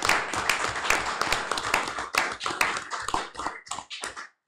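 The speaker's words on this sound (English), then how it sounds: "let's give him a round of applause" A round of clapping from an audience at a school board meeting, many hands beating in a dense, steady patter close by that thins out and stops after a few seconds.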